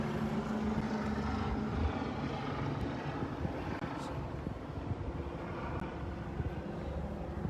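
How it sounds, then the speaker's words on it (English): A helicopter flies overhead at night above Brooklyn, New York, its steady rotor and engine drone continuous and moderately distant, with no talk. "the helicopter has been flying around for a little bit"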